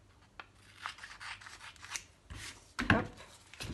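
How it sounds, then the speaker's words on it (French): Paper being trimmed for an origami rabbit: several short snipping and rustling strokes, close and fairly quiet, with a louder crisp cut near the end and no talking. "j'enlève l'excès de papier."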